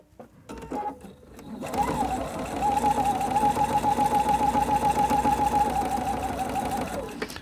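Sewing machine stitching a seam after tension troubleshooting, starting with a few stop-start taps then settling into a steady, fast rhythmic whir for several seconds before stopping.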